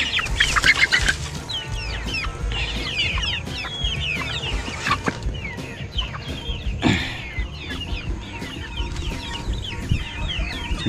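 Chickens on a farm cluck and squawk in a lively, continuous chorus with brief wing flaps, close and steady throughout, with no talking.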